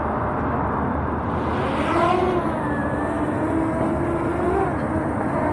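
A DJI Mini 2 drone starts up and hovers close by outdoors, producing a faint steady hum that sits low under the surrounding outdoor noise.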